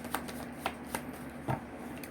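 Tarot cards shuffled by hand in a few quick riffling bursts, close and fairly quiet, spaced irregularly over a soft background.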